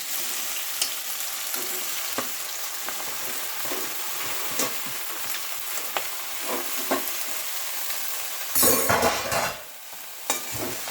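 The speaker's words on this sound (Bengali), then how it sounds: "এবার আমি শাকটা এর মধ্যে দিয়ে দেবো।" Leafy greens dropped into a hot pan of peas bring a sudden louder burst of frying that rises over an already continuous close sizzle, with scattered small crackles and pops throughout.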